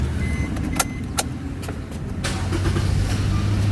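A Suzuki Ciaz car engine with throttle delay and low power idles steadily, a low continuous hum with a few sharp clicks and a faint beep partway through.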